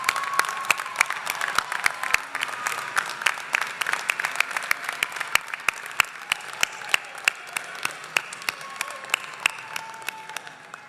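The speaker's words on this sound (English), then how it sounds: "let's give them a round of applause" Graduates at a university winter commencement ceremony clap for their guests, a sustained wash of applause from a large hall crowd with sharp individual claps popping out near and far.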